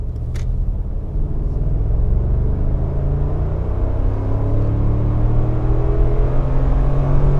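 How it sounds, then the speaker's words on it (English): Steady road and wind roar inside a Mercedes G500 cruising at 120 km/h, a constant loud low rumble that barely shifts across the stretch, with no voices. "this is what I mentioned with the wind noise. We are driving 120 kilometers an hour."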